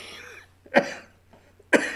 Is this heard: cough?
yes